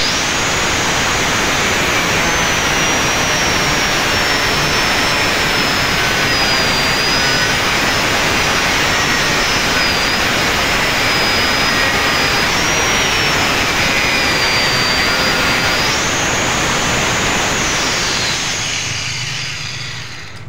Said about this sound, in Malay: saya lanjutkan dengan pengujian untuk memotong besi PLC ni yang tebal ni